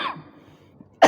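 During an Islamic tafsir lecture, a man coughs sharply at the start and again at the end, with near silence between the two coughs.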